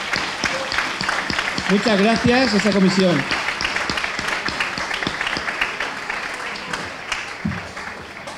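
A village festival crowd applauds the organising committee, a warm burst of clapping that swells and then thins out, partly under someone speaking over a microphone.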